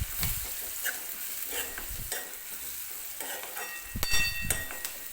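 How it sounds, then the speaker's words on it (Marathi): Turmeric being stirred into upma base in a pan of hot oil, with a spoon scraping repeatedly across the metal and a steady sizzle underneath, close and moderately loud, a few sharper clanks near the end. "हळद टाकल्यानंतर परत व्यवस्थित मिक्स करून घ्यायचं."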